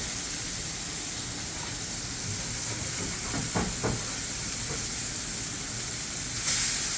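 Lean venison burger patties searing in a hot pan, a loud continuous hiss and sizzle with a few brief clicks near the middle and a short swell of sizzling near the end.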